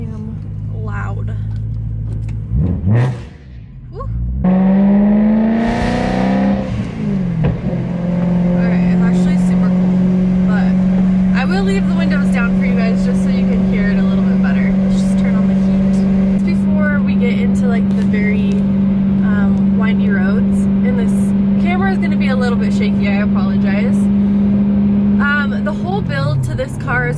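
Supercharged BMW E92 M3 engine revving hard while driving, a loud sustained drone that climbs in pitch after a brief dip, with someone talking over it.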